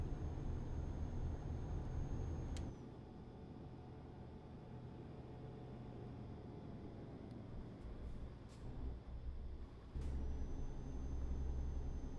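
A heavy truck in Euro Truck Simulator 2 gives sharp air brake hisses, one near the start and more later, over a steady low engine and road rumble with no talk.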